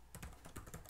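Quick, faint keystrokes on a computer keyboard entering a login email address, a rapid patter of soft clicks up close, with no voices.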